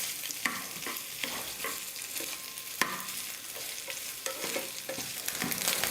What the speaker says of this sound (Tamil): நெய்யில் தேங்காவை நல்லா வறுத்துக்கலாம்.